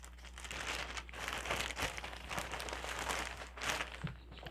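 A Ziploc bag holding brown yarn being handled, giving a close, continuous crinkle of soft plastic in uneven bursts and rustles, fairly quiet, with no voices.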